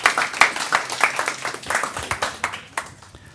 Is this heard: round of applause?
yes